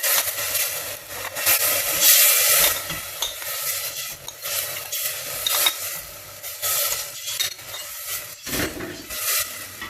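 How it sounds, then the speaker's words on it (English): Spoon stirring a sugar and vinegar BBQ sauce mixture in a pan, steady scraping and swishing strokes with faint sizzling, close and continuous throughout. "you're going to keep stirring it constantly, aren't you? So that the sugar all dissolves"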